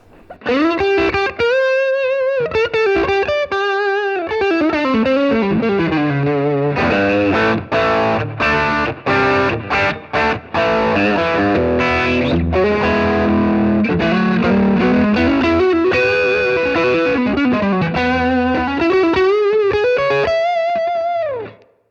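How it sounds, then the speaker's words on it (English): Electric guitar played through a Super Overdrive pedal, a loud, sustained, smooth and creamy overdriven tone with a rich, vocal mid-range, single notes and bends flowing into strummed chords over about twenty seconds with no talking. "Let's move on to the Super Overdrive, and you'll hear it's a very similar tone."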